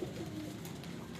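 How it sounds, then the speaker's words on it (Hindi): Flying pigeons kept in a loft coo softly in brief low murmurs, barely rising above a steady rustling background. "मेरे परवाजी कबूतर हैं"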